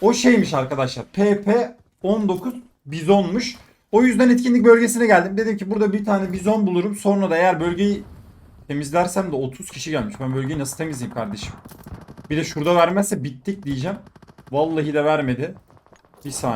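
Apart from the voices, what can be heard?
No everyday noises stand out.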